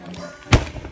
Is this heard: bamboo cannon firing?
yes